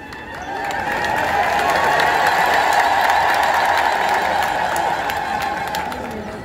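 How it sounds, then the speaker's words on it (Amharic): A church audience claps on request, the applause swelling quickly into a loud, dense wash, holding steady, then easing slightly toward the end. "እንደገና የሌላችሁ ሰው ታጨብጭቡ"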